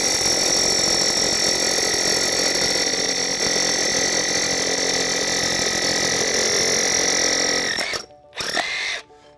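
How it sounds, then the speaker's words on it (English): A Milwaukee cordless drill bores a hole without a dust shroud, giving a loud, steady, high whine close by that stops abruptly, followed by a short burst and silence. "If I were to drill a hole without it,"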